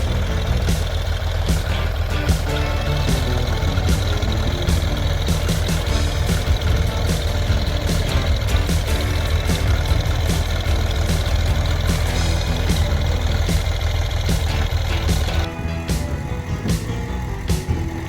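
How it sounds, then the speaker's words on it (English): A 1966 John Deere 4020 gas tractor runs steadily for about fifteen seconds, a loud, continuous low engine rumble with a periodic ticking, then drops back to a quieter idle near the end. "now Dan Jasmine of Jamestown, North Dakota, riding a 1966 John Deere 4020. It's a gas tractor."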